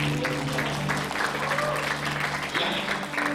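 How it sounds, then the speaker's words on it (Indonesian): An audience at a church teaching session claps for Pak Benny, a brief, steady burst of applause filling the room with a low musical hum underneath. "Tepuk tangan untuk Pak Benny ya, Pak."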